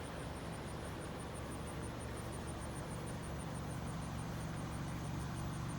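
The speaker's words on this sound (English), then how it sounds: "Here with the RAV4, driving in Pittsburgh, Pennsylvania." Steady, muffled road and engine noise inside a 2019 Toyota RAV4 XLE gas version driving through Pittsburgh, Pennsylvania, a constant low rumble with faint hiss and no talking.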